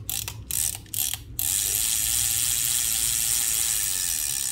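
A size 10000 Daiwa or Ryobi Japanese sea-fishing spinning reel with three bearings and an anti-reverse stop gives a few quick ratcheting clicks, then spins into a smooth, steady whirring hiss.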